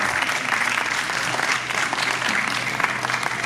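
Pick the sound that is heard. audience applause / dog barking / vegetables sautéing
audience applause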